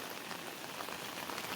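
Heavy monsoon rain falls over flooded paddy fields in Konkan, a steady, dense hiss of drops with no voices, holding even and fairly soft throughout.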